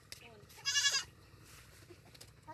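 A goat bleats once in the middle, a short wavering cry on a farm, with quiet background chatter around it.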